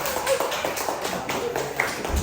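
A small group clapping in a classroom, a patter of hand claps at close range, moderately loud with a faint murmur in the room.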